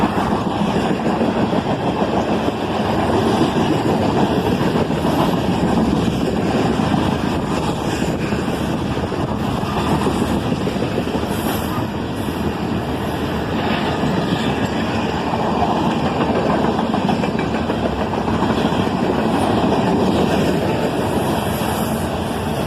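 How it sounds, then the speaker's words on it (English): Tank cars on a CSX freight train roll by in a steady, loud rumble of wheels and rail noise, with wind buffeting the microphone throughout and no voices. "Lots more tank cars now"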